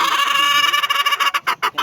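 A fighting rooster clucks up close, starting as a continuous throaty call and breaking into a quick series of short, rhythmic clucks toward the end.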